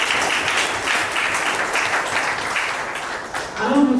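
Guests at a civil wedding ceremony applaud, a steady wash of clapping that stays even before a voice briefly cuts in near the end.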